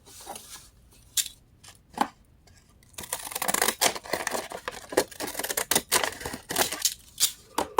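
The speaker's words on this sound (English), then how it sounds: "And I'm going to cut this one side off." Scissors snip through paper card in a few sparse cuts, then a faster run of crisp, close snips and rustles, heard alone without talk.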